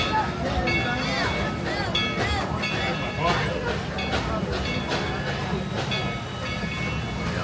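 The Dollywood steam train rolls along with a rhythmic clatter of rail cars and a low rumble, while people on board talk and call out over it the whole time.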